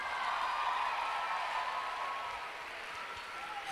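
A concert audience applauds a Spanish pop band being welcomed on stage, a dense, steady wash of clapping that holds at an even level throughout, without any voice over it.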